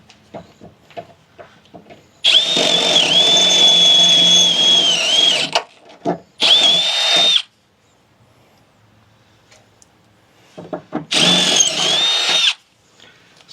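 A power drill bores holes through the body of a Jeep Gladiator in three loud, close bursts: one long steady whine, then two shorter runs, with quiet gaps between them.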